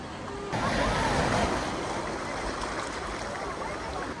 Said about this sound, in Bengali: অনেক উঁচু অবধি ঢেউ হয়ে গেছে